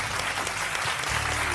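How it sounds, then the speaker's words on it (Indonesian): A crowd at a property investment talk show in a town square mall claps for a prize winner, a brief, dense burst of applause with a low background hum beneath it. "Boleh tepuk tangannya?"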